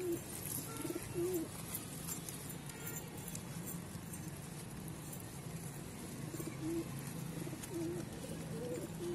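Two pigeons on a rooftop give soft, repeated cooing calls over steady outdoor background noise, faint and intermittent across the whole stretch, with no talking.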